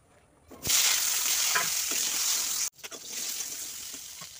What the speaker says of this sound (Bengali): এটা তেল গরম হয়ে গিয়েছে, আমি বেগুনটা ভেজে নেব